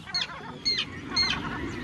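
Terns calling at a breeding colony on gravel-covered nesting rafts on a lake in a nature reserve, with three sharp, harsh calls at regular intervals over a soft, steady background.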